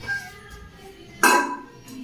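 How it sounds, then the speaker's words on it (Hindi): Kitchen pots and utensils knocked about by a small child at play, a single bright metallic clatter standing out after quiet faint clinks, indoors and close by. "यहाँ आके ये बर्तनों से खेलेगा।"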